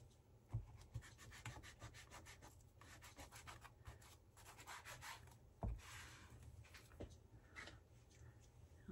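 A gathered twig rubs over a handmade craft cover in quick, dry scraping strokes, faint and close, repeated in a steady back-and-forth rhythm.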